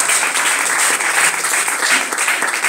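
Church congregation applauding for Jesus at the close of a testimony service, a steady, dense wash of clapping that stays loud and continuous throughout, with faint voices mixed in.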